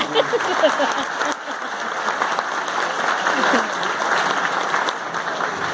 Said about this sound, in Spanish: démosles un aplauso muy especial a las abuelas